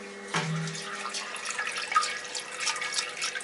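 Water pumped through hoses on an Ss BrewTech brewery system during a test run, a steady broadband rush of flowing liquid after a brief low pump hum at the start, close and continuous with small splashy fluctuations.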